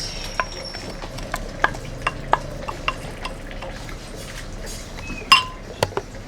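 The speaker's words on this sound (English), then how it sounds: "we are going to give that a good stir" Washed rice is stirred in a pot, with scattered spoon clinks and scrapes against the metal over a quiet background and a sharper knock near the end.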